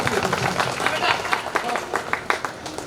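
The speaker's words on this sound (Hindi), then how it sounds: "एक बार जोरदार तालियां बजा" Audience applause at an open-air Hindi poetry gathering (kavi sammelan) held at the Veer Tejaji fair, with scattered claps and crowd noise running steadily at moderate loudness, some brief sharper bursts standing out.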